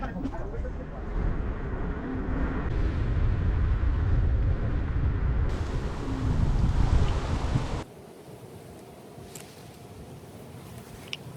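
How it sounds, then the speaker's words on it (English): Breeze off the water at Spanish River Public Park in South Florida buffets the microphone with a rumbling, gusty roar, dropping to a quieter hiss near the end. "Slight breeze coming out of the north."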